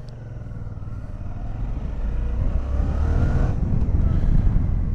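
A Suzuki V-Strom 650 motorcycle engine, A2-restricted, revs and accelerates, its deep roar building steadily louder over about five seconds, with no voices.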